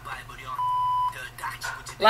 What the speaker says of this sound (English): A lot of beeps.